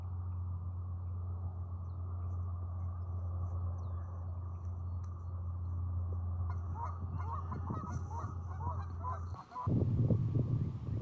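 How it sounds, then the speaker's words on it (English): Canada geese honk in a loose, irregular series over a steady low rumble at Upper Macatawa Natural Area, growing louder and busier toward the end. "Other waterfowl seen include mallards and Canada geese"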